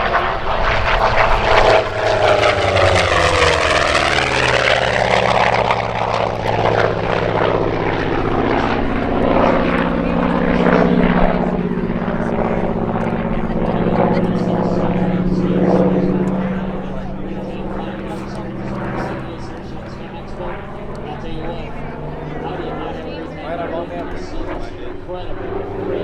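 A WWII propeller fighter plane flies past at an airshow, its engine roar rising loud with a sweeping Doppler pitch change, then fading as it moves away, with commentary spoken over it.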